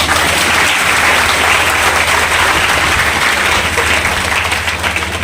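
Loud, continuous audience applause at a Hindi poetry gathering, dense clapping from a large crowd sustained evenly throughout with a steady low hum beneath.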